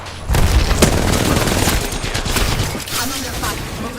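An Arc Star grenade detonating in a battle royale game, loud crackling bursts and booming gunfire layered together for several seconds, with voices in the mix.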